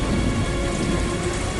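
Heavy rain pours steadily with a deep rumble of thunder beneath it, a dense, continuous wash of sound with no voices.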